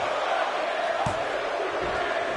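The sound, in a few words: wrestling crowd chanting in Anaheim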